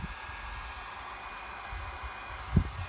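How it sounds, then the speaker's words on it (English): A heat gun set on low blows a steady, even rush of air while restoring faded plastic auto trim, a constant hiss throughout with a brief soft thump near the end. "I have the heat gun on low."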